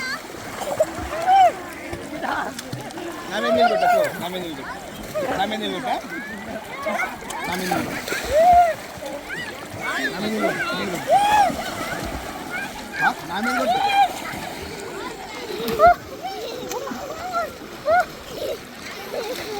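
People swim and splash in a river in Karnataka, with watery splashes and sloshing running steadily beneath nearly continuous close, lively talk and shouting.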